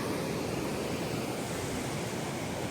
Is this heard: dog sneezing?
no